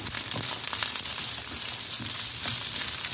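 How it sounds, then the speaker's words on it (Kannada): Horse gram frying in a little oil over low heat, a steady close crackling sizzle with scattered pops running throughout without pause. "ಸ್ವಲ್ಪ ಎಣ್ಣೆಲಿ ಉರ್ಕೋಬೇಕು"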